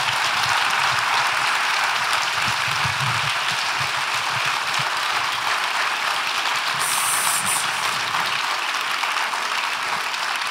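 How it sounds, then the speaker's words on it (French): An audience applauds four guests with steady, dense clapping that fills the room evenly and continues without a break. "vous pouvez les applaudir vraiment beaucoup"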